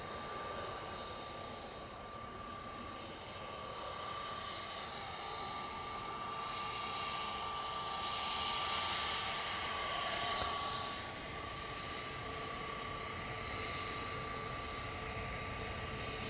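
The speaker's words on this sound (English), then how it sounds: "Aer Lingus touching down from Dublin, A320-200." An Aer Lingus Airbus A320-200 touching down at Manchester Airport after arriving from Dublin, a sustained broadband jet roar with a steady whining tone, swelling gently near the middle, heard at a distance with no talking.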